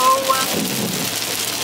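Heavy rain pours as a steady, dense hiss, close and continuous, with a few faint tones over it.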